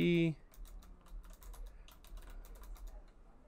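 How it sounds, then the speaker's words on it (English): Code is typed on a computer keyboard in a rapid, uneven run of crisp key clicks. The keystrokes sound close and moderately loud and follow a short burst of voice. "that's what we're going to be typing in first"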